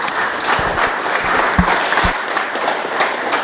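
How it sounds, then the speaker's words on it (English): Applause from a conference audience for a sports-investment panel, a dense steady wash of clapping that fills the room for several seconds at close, even loudness. "I'd like us to give our panel a wonderful round of applause."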